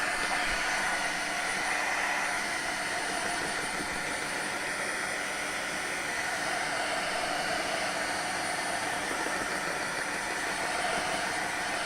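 A heat tool runs steadily and loudly for the whole stretch, a constant blowing whir used to dry a mixed media box, with no talking over it.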